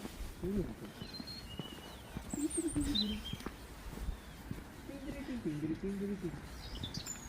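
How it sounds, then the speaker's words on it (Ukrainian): Small birds chirp and tweet outdoors on a shopping walk in Ireland, with short high calls scattered at moderate distance, mixed with lower cooing and footsteps while people talk nearby. "Ого, скільки Там пташечок."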